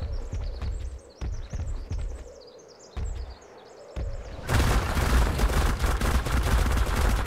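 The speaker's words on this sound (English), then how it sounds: "Dude, it's like a little Gatling gun" The Managarmr creature in ARK: Extinction lets off a rapid-fire attack like a Gatling gun, sounding as bursts of quick, sharp shots. They give way to a loud, dense, continuous barrage.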